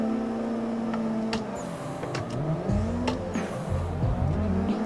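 Drift car engine in the Assetto Corsa sim racing game, revving and droning with shifting pitch, tire squeal rising over it and sharp rev spikes, loud and continuous.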